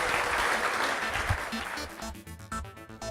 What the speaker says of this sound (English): Can we have a round of applause for Melissa